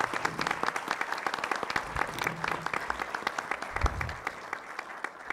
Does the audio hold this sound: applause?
yes